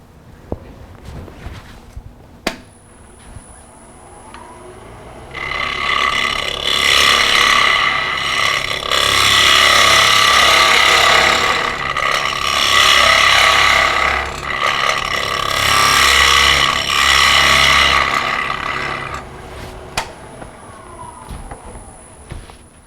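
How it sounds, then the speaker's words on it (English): Spindle gouge cutting wood on a lathe while turning a ring bowl, a loud sustained scraping, shearing hiss in long passes over the hum of the running lathe, with quieter knocks before and after. "Go back to the spindle gouge."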